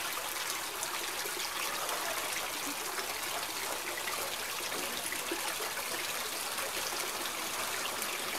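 Water pours steadily out the end of a DIY air lift koi pond vacuum, a constant close rushing trickle with no pauses or voices.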